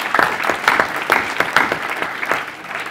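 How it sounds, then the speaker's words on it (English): Graduation ceremony audience applauds high diploma students at a hotel management school, a crowd clapping steadily with crisp individual claps standing out, moderately loud and without speech over it. "let's give a big round of applause to our high diploma students"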